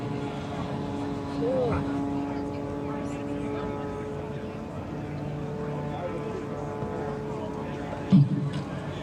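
Blue Angels jets taxiing after landing at Naval Air Station Pensacola, a steady distant engine whine and hum under an announcer's continuous commentary, with a brief louder thump near the end.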